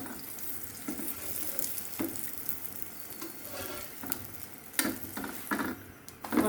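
Food frying in a pan with desi ghee over raised heat while being stirred, a steady soft sizzle with occasional louder scrapes and clinks, no talking.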